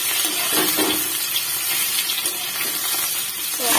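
Potatoes and papaya frying in a pan on a gas stove, a steady broadband sizzle and hiss with faint stirring scrapes, close and continuous throughout.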